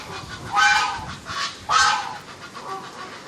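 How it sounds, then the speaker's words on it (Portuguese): A goose honks several times in loud, harsh bursts, two strong calls followed by fainter ones, nearby with no talking. "Tem um ganso gigante."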